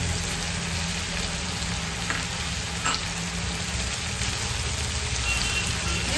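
Vegetables with yellow bell pepper stir-fry over high flame for chicken Hakka noodles, a loud steady sizzle filling the whole stretch with occasional faint utensil scrapes.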